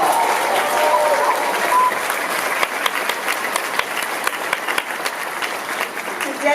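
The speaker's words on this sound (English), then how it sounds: "Give them all a big round of applause." A crowd at the City of Compton inauguration ceremony applauds for newly elected officials, a broad wash of clapping that thins slightly toward the end, with some cheering voices in the mix.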